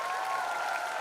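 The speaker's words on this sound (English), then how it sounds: "Huge round of applause for Karan Johar." At a Model UN event, an audience breaks into applause for the filmmaker Karan Johar, a brief, even burst of crowd clapping heard without any voices.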